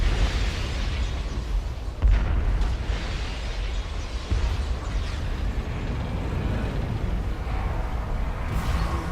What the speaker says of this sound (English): Okay, the ship is exploding.